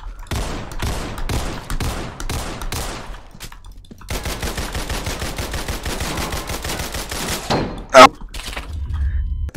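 Rapid bursts of gunfire from the Roblox game Criminality during an RCU event, with sharp repeated shots in quick volleys, a short pause, then a long continuous stretch of fire and a single loud thump near the end.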